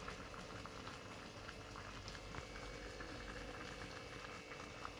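Meat simmering at a steady boil in a cocotte pot for Moroccan mrouzia, a continuous bubbling and gentle patter heard up close with no talking.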